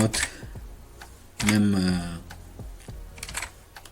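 Someone types a Python program on a computer keyboard, with a scattering of close key clicks and taps. A voice speaks over part of it.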